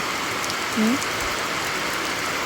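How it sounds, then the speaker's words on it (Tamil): Heavy rain hisses as a steady, even wash of noise, with a faint brief tone partway through. "மழையோ மழை முருகா."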